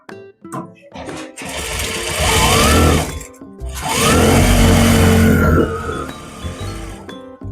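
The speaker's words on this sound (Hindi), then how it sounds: "सो गाइस दूसरा भी आसन इसी तरह से स्टिचिंग कर लेनी है।" Sewing machine stitching a salwar hem, running in two sustained bursts with brief pauses between, loud and close, with faint handling clinks around the stops.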